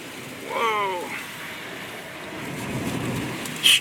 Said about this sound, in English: Strong winds. Very strong winds.